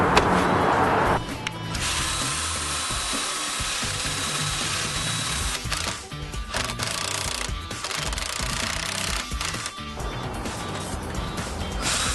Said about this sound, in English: you're going to pre-drill 5 or 6 holes here and attach the collar tie to the truss itself